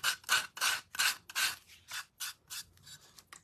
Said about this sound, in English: This is a 120 grit. I'm going to use that, and I want to do the edges here.